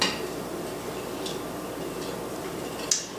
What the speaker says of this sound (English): So it says we need to stir this until everything's dissolved in there